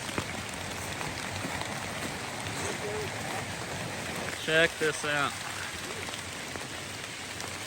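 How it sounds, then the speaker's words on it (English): Rocky Falls, a large waterfall in autumn, pours into a creek with a constant, close, hissing roar that fills the whole scene, while someone briefly speaks over it partway through. "That is a huge waterfall."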